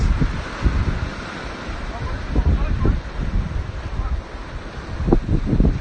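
Seawater washes against a rock along the coast, a steady rush of surf with a few heavier surges, muffled by wind on the microphone, while voices speak faintly in the background.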